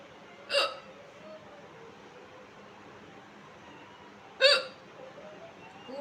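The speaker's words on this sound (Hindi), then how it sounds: "बस आ गई हिचकी।" A woman hiccups twice, about four seconds apart. Each hiccup is a sharp, close, sudden burst against a quiet room.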